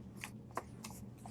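Sheets of decorative paper with gold veining shuffled by hand, a few soft, quick papery swishes and flicks close by, quiet and without talk.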